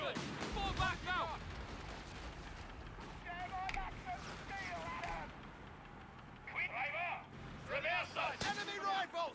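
Gunfire from a Company of Heroes 3 battle pops and booms faintly in the background, scattered rifle shots and distant blasts sitting under frequent in-game voice callouts and radio chatter.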